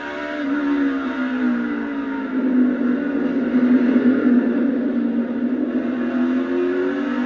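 A race car rolls through the middle of a corner, its engine note droning steadily and sweeping slightly down then back up as the driver eases off and gently returns to the throttle; loud and close, with no talk.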